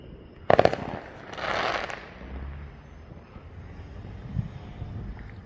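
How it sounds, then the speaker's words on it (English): Fourth of July fireworks crackle in a quick burst of sharp pops, followed by a softer distant boom and faint rumbling afterward, heard outdoors at moderate distance with a little wind on the microphone. "more fireworks are going off"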